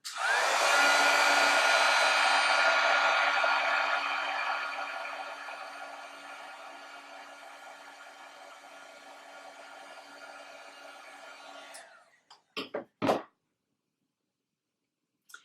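Steady whooshing hum of a heat tool melting embossing powder for a floral craft piece, loud at first then easing before cutting off, followed by a few light clicks and taps.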